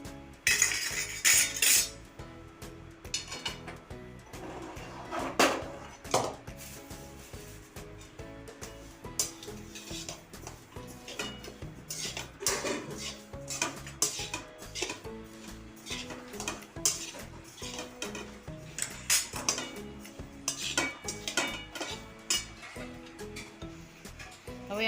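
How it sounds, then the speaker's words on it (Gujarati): Spice masala for a mango pickle is mixed by hand with a spoon, giving a long run of close metallic clinks, scrapes and knocks against the vessel, irregular and busy throughout. "હવે આપણે આમાં નીચે લઈને બધો મસાલો ભેળવી લઈશું."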